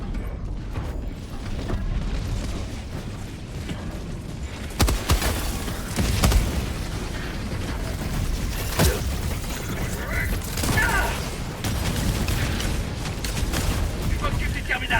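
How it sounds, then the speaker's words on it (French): Two cannon turrets fire on the player in Helldivers-style game combat against Automatons. Repeated heavy booms and blasts sound through a dense battle din, with a player talking over the shooting. "il y a les 2 tours canons qui me tirent dessus"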